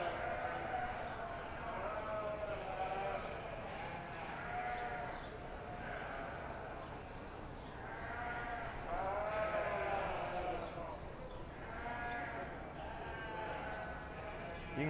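Commercial blackface ewes bleat repeatedly at a county fair sheep show, several wavering calls rising and fading over a low background murmur of the ring.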